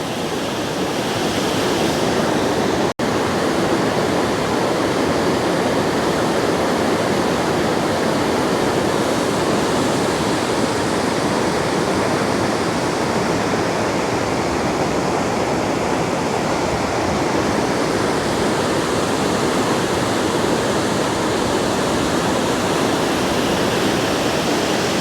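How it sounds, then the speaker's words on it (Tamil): Water rushes fast and hard at the Iranaimadu reservoir in the rain, a loud, continuous, roaring wash that stays at the same strength throughout, with no voices. "பாருங்கள் இது எவ்வளோ வேகமாக பாஞ்சு அதுக்குள்ளே அப்படியே சுற்றி தான் பிற தண்ணி போகுதுங்க"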